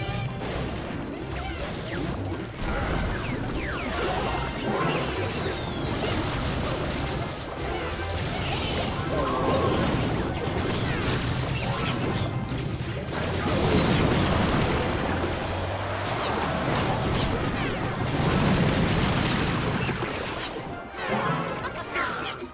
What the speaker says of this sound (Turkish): Ah be Mega Minyon çok vurdu